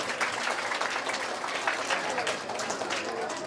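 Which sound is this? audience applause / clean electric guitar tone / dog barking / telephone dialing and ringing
audience applause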